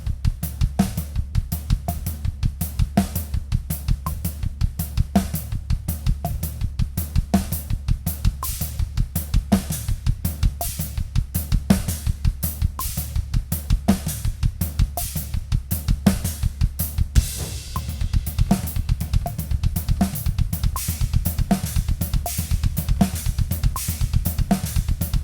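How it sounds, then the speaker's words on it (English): A drum kit plays a splits-beat groove built from a rudiment with displaced notes: dense, steady kick and snare hits with cymbal wash, loud and continuous throughout, with a brief shift in texture partway through. "we are playing that really cool rudiment splits beat"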